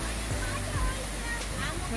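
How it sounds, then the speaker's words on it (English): A roadside waterfall right beside a highway in the Canadian Rockies makes a steady, faint rush of falling water. It is heard from some distance, with a low wash of voices mixed in. "We saw this waterfall right next to the highway and we started climbing it."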